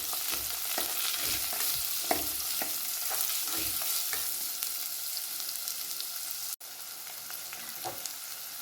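Curry leaves sauté in hot oil for a white pumpkin curry, giving a steady close sizzle broken by regular scraping strokes of a stirring spoon against the pan, with no talking.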